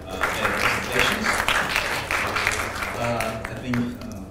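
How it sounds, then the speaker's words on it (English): A seated audience at a live faith talk claps after presentations, a moderate, fairly distant round of applause lasting a few seconds with faint voices mixed in. "we give him the applause for their presentations"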